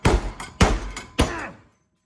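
Three loud metallic clangs, about half a second apart, a hammer beating welded scrap metal, each struck hard and ringing briefly before the next, then silence.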